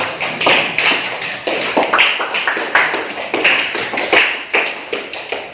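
A small group applauding at an Indonesian classroom teaching session, a close, fairly loud patter of claps that holds steady for several seconds without talk.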